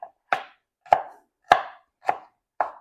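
A knife chops vegetables on a cutting board for pasta fagioli, with five crisp, evenly spaced strokes, close and fairly loud with silence between.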